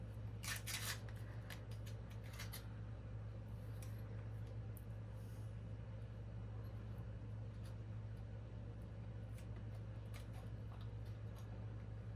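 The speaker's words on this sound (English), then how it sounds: "I could just trim everything all at one time" Scissors trimming polymer clay fall leaf earrings give a few quick, close snips in the first couple of seconds and then faint scattered clicks over a steady low hum, with no talk.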